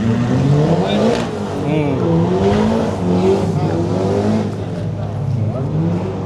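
Several Toyota 86 cars rev loudly and steadily at a car meet, engine drones rising and falling, with people talking throughout.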